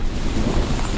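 Torrential monsoon rain pours down on a mountain forest with thunder, a loud, dense and continuous roar of downpour with a low rumble underneath and no voices.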